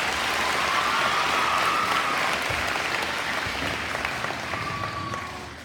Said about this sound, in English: so you guys can clap for her